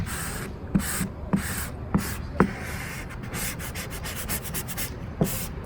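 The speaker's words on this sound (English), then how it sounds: "Fancy squeegee tool." A squeegee rubs a sticker onto a car body in short scraping strokes, several quick rasping passes spaced irregularly over a few seconds, close and fairly loud with no talk.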